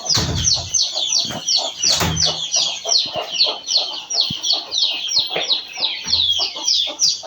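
Several chickens cluck busily and continuously close by, their calls overlapping in a steady, lively chatter.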